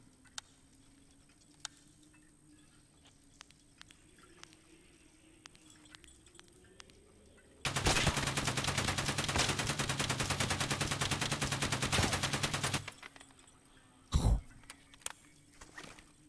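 A video game gun with heavy recoil fires one dense, loud automatic burst lasting about five seconds, with a short sharp shot following after a pause. Quiet background noise and faint clicks come before and after.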